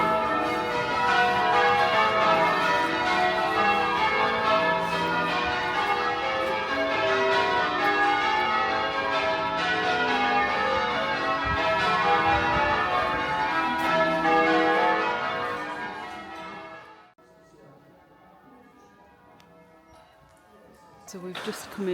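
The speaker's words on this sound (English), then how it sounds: "Clearly where the bells are coming from." Church bells of the Church of St Lawrence peal continuously and loudly with dense ringing overtones for about seventeen seconds, then stop abruptly, leaving quiet ambience with some faint activity near the end.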